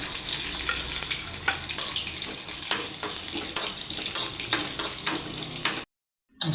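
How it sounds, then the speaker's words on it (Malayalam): A continuous hiss of cashews and raisins frying in hot ghee with scattered crackles and a few stirring scrapes, then an abrupt cut to silence near the end. "നെയ്യ് ഒഴിച്ചതിന് ശേഷം നന്നായിട്ട് ചൂടാകുമ്പോൾ നമുക്ക് കശുവണ്ടി മുന്തിരിയൊക്കെ വറുത്ത് ചേർക്കാം"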